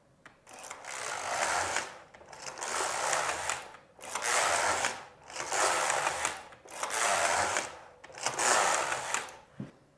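The lock of a Passap Duomatic 80 double bed knitting machine slides across the needle bed again and again. Each pass makes a close, rasping mechanical whoosh that lasts about a second, with short pauses between passes.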